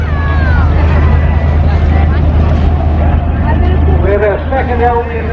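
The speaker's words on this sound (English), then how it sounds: "The Bedford 330 engine." A classic original TK Bedford lorry with a Bedford 330 engine runs with a steady, loud low rumble throughout, while someone speaks over it at a classic lorry show.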